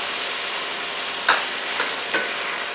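Stew meat topped with roasted tomatoes and a little water braises in a pot, giving a steady close sizzling hiss with a few brief clinks and stirring scrapes.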